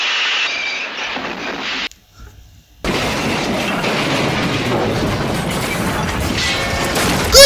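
A train derailing and crashing gives a loud, rough rush of grinding, clattering noise, then drops to a brief near-silence before a sustained crashing roar resumes and ends with a final jolt.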